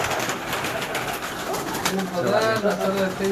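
Domestic pigeons of show breeds, including cupboard-kept birds, coo and call at close range in a loft in Chunian, Pakistan, with background chatter and bird noise throughout.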